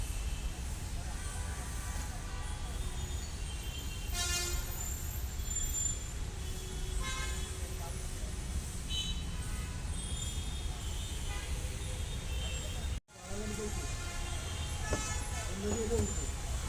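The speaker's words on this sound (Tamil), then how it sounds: "வெஜிடபிள் வண்டி போகுது உள்ள." A vegetable vendor's cart rolls past amid steady street traffic, sounding a few tonal honks that stand out over the constant road noise, while a person talks over it.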